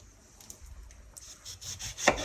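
A knife slicing the ends off organic lemons on a cutting board, with soft scraping strokes building to one firm, close cut near the end.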